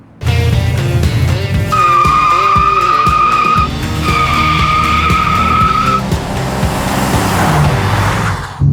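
A 1990 Chevy 454 SS pickup and a 1993 Ford F-150 Lightning pickup fire up loudly close by, with dense V8 engine rumble that keeps going throughout and a sustained tonal whine in the middle.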